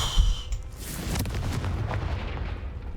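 A Confringo blasting spell explodes in Hogwarts Legacy, a sharp burst followed by a rolling, rumbling boom that fills the rest of the moment with heavy low-end decay.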